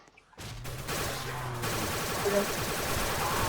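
Rapid gunfire from an AK rifle in the Roblox game Project Lazarus, a dense continuous burst of shots that starts after a brief quiet moment and keeps going steadily to the end, loud and close.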